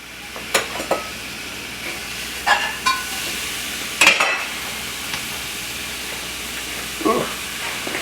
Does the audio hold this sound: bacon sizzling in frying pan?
yes